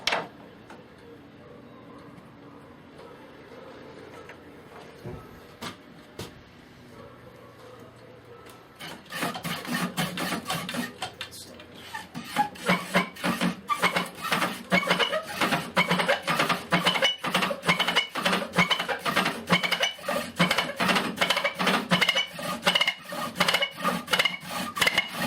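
A greased hand brace bores into bamboo, first quiet, then a dense run of rapid, slightly uneven rasping and ticking scrapes from the bit biting through the fibres, close and steady with no talk.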